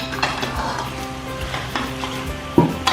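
Fried mutton chops go into a pan of sizzling onion masala and get stirred, with a close, crackling sizzle under scraping strokes and a sharp clatter of utensil against pan near the end.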